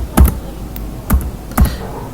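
A few quick bursts of keystrokes on a computer keyboard, spaced out over a couple of seconds, fairly close and clear with no talking.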